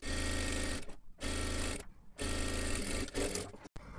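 A sewing machine stitches a blouse tie strip in loud, close bursts of rapid whirring, stopping briefly between runs of about a second each.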